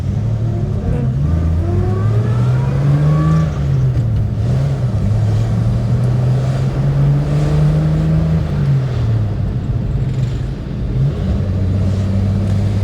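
A classic Rover P4 100 saloon drives along the road, its engine giving a steady, close mid-pitched drone that rises and falls with gear changes, under continuous road and wind rumble.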